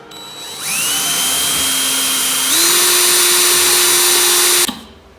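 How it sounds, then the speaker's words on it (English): A power drill whines loudly and steadily, its pitch stepping up midway as it bites into metal while drilling out a part on a Ducati 1299 Panigale motorcycle, then cuts off abruptly. "you have to drill it to get it out"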